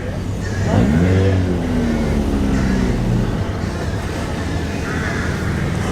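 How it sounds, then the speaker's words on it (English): Classic cars such as a Hillman Hunter 1500 DL and an Austin 7 Ruby roll in at an outdoor show, their engines a steady low rumble with one rising rev early on, heard under muffled crowd chatter. "Lots and lots of cars pouring in now, which is always great to see."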